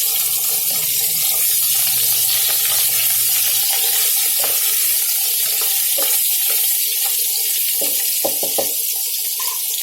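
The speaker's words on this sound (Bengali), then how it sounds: "আলু একটু ভাজা ভাজা হলে তখন আমি এর মধ্যে দেব কুমড়ো আর বেগুনটা" Potato, pumpkin and eggplant sizzle in a pan while being stirred, a steady loud hiss of frying broken by scraping and clatter of the spatula, close up and without talk.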